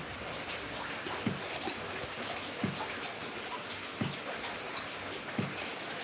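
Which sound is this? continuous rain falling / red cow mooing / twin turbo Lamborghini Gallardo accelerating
continuous rain falling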